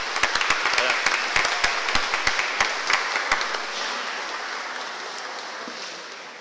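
A church congregation in Nice applauds the organist and flutist during the solemn Mass for the feast of Saint Rita. The clapping starts with distinct claps, swells into a steady wash, then slowly fades.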